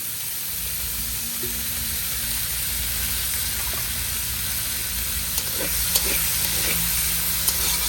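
Shrimp frying in mustard oil give a loud, steady sizzle and hiss from nearby, with a few light stirring clicks near the end and no talking.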